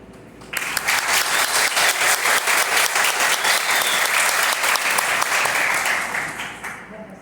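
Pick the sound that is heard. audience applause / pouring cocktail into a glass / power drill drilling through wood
audience applause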